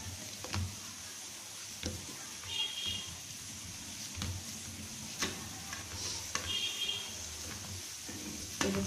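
A spoon stirs and scrapes a potato filling with green chili and asafoetida in a pan for aloo paratha, giving soft, irregular knocks and a faint sizzle, close and quiet.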